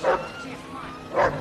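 A dog in a movie scene at an airport barks twice, short loud woofs spaced about a second apart, fairly close over a quiet background.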